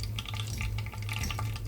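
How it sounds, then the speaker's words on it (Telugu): Mustard and other tempering seeds with finely chopped curry leaves fry in hot oil, giving a steady close sizzle with crackles and spattering pops, no talking. "ఆయిల్ వేడెక్కాక ఇందులోకి పోపు గింజలు, సన్నగా కట్ చేసి పెట్టుకున్న కరివేపాకు,"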